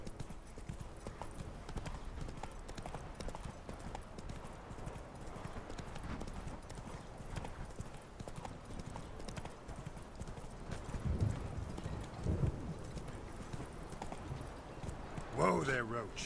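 Roach, the horse in The Witcher 3, trots with a steady clip-clop of hooves that runs under the game's ambience the whole time, and a voice speaks over it.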